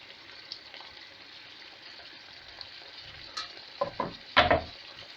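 Quiet sizzling of diced red peppers in a pan, with a few louder bursts of frying and stirring toward the end.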